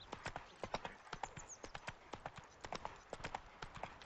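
Horse hooves clip-clop in a brisk, steady rhythm in The Witcher 3 video game, sounding close and continuous throughout.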